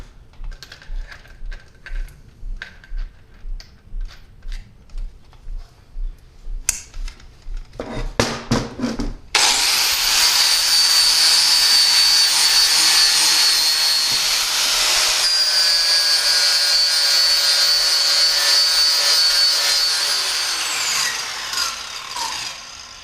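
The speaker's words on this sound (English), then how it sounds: "take this, outfit it to our grinder, and we're going to strip off some of this chrome here all the way around it" A grinder strips chrome from a Harley-Davidson sprocket guard, cutting in with a loud, sustained high whine after some lighter tapping and rattling, then running steadily close by before easing off near the end.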